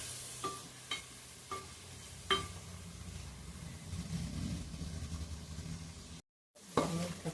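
Prawns fry quietly in a pan with a low steady sizzle, broken by several light scraping clicks of a spoon stirring them, and a brief silent gap near the end.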